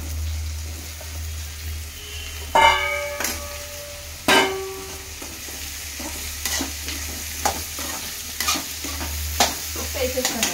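Thinly sliced ridge gourd tossed into a hot pan for frying, a few sharp clattering knocks of a spoon against the pan followed by soft steady sizzling and stirring, close by.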